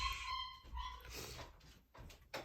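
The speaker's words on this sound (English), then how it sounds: "Why is the puppy crying?" A puppy cries and whimpers faintly in a room, a few thin, high whines that rise and fade, quiet and somewhat distant.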